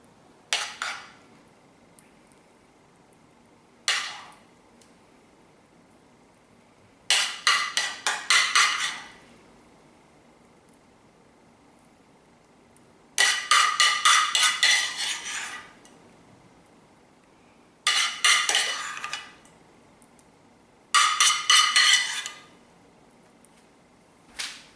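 Scrambled eggs being spooned onto a plate, with six separate bursts of bright scraping and clinking from a spoon against dishes and cutlery, each lasting one to two seconds and split by quiet gaps, and no talk.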